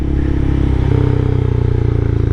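A Honda CBR300R motorcycle engine thrums loudly and close while being ridden, a steady pulsing drone with wind rush and a slight shift in pitch partway through, no voices heard.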